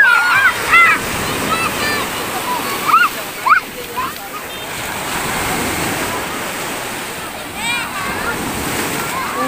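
Warm sea waves wash and splash continuously nearby, with a rushing surf sound throughout and a few high voices calling out over the water.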